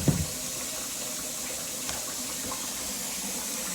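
Kitchen tap running into a sink during washing up, a steady quiet stream of water with a soft knock at the start, continuous and alone.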